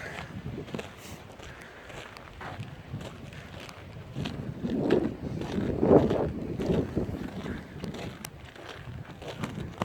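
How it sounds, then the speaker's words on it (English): Winter wind blows outdoors beside a brook near an old beaver dam, buffeting the microphone in low rumbling gusts that swell midway and then ease off. "A little windy."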